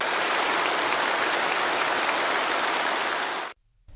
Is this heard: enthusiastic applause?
yes